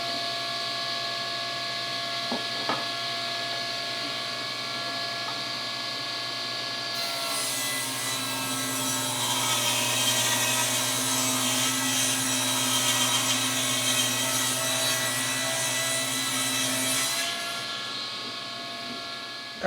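A table saw rips wood into 1-inch strips: the blade hums at idle, then a louder, rougher cutting whine runs for about ten seconds before dropping back to the idle hum. The saw is close, with no speech.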